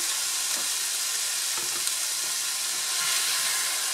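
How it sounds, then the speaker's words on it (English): Tomato sauce stewing in a soup pot for lentil soup with kale, chard and smoked sausage: a steady broadband sizzle and bubbling hiss throughout, with no talking. "Allow the tomato sauce to stew a little bit just to get rid of that raw tomato sauce flavor"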